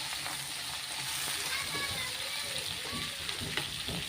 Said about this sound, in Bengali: দিয়ে আমি এবারে ভেজে নেব।